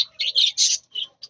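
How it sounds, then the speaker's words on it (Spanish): Blue-line budgies, rainbow-project pairs being weaned, give a quick run of bright, close chirps in a few short bursts. "Ya ustedes pueden ver que son unos pajaritos muy bonitos"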